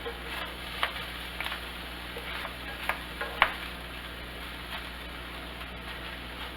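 A corned beef bacon cheeseburger topped with Swiss cheese frying in a pan, a faint, steady sizzle with a few sharp scrapes and clicks of a spatula turning it.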